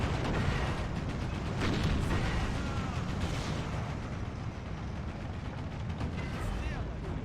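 Tank gunfire in Steel Division 2, repeated booming shots and explosions over a dense rumbling battle din, with someone talking throughout.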